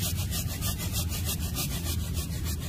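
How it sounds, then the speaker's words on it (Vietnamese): A hand saw cuts through a yellow apricot (mai) tree branch, giving steady, rhythmic rasping strokes, close and fairly loud, with no voices. "Nè em cưa thử cây mai cho anh chị xem ha."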